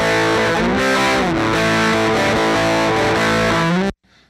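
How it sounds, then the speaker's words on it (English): An electric guitar played through a distortion plugin in Logic Pro X, thick saturated riffs with sustained buzzing chords and bending notes, loud and upfront, stopping abruptly just before the end. "So up next is the distortion plugin. And let's add that in and see what it sounds like."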